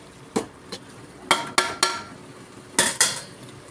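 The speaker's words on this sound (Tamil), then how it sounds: "ஸோ நம்ம இஞ்சி பூண்டை நல்லா கிண்டி வச்சுக்கலாம்." Ginger and garlic stirred in a metal pot for Hyderabadi biryani, a handful of sharp ladle clanks and scrapes against the pot, close and clear over a low frying hiss.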